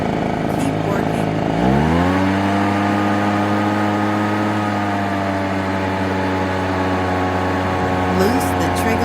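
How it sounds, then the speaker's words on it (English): A gas leaf blower's small two-stroke engine catches and settles into a steady, loud, buzzing drone that holds close and continuous for several seconds. "Pull the rope to make engine start."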